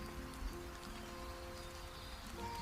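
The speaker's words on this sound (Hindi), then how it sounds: "बारिश बहुत आ रही है," Heavy rain pours steadily on a surface, a dense continuous patter of drops at constant loudness with no voices.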